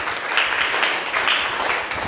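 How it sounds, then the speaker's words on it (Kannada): Children in a classroom-style session give a brief, loud round of clapping, many hands beating in a close, fairly rhythmic burst. "ಬನ್ನಿ ಜೋರ ಚಪ್ಪಾಳೆ."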